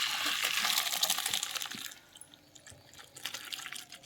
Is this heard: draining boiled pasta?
yes